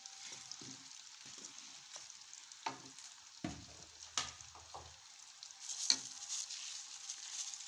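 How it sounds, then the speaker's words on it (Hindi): Carrots and turnips dropped into hot oil for a mixed pickle, a soft close sizzle with scattered stirring clinks and taps, no voices. "हम इस तेल में डालेंगे। गाजरें, ये हमारे पास है शलजम,"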